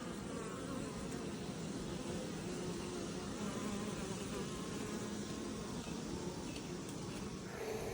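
Honey bees buzz steadily around beehives in a nuc yard, forming a dense, continuous insect drone with no talk.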